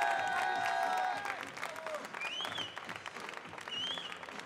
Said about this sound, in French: Je vous demande un tonnerre d'applaudissements.